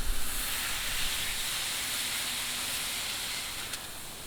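A smash burger patty pressed onto a hot Ooni Koda 16 griddle, giving a loud, sustained broadband sizzle and hiss that stays steady and close throughout, with no voices.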